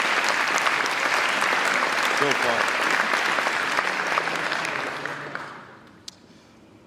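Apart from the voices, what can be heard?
audience applause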